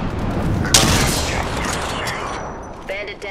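Dense automatic and burst gunfire from the video game Apex Legends, a loud sharp crack near the start followed by continuous rattling shots and booms that ease slightly toward the end.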